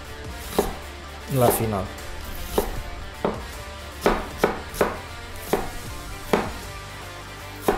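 A knife chops an onion on a board in steady, fairly evenly spaced crisp strikes, close and distinct, with a brief quick flurry near the start; a voice speaks briefly.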